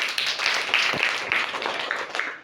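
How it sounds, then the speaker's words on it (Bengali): A classroom of young children clapping their hands together in a burst of scattered, overlapping claps that carry on steadily for a couple of seconds, moderately loud indoors with some background voices. "হাততালি দাও।"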